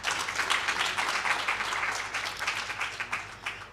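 Audience at a women's investment breakfast applauding themselves, a steady wash of many hands clapping that holds at an even level throughout, with no voices standing out above it.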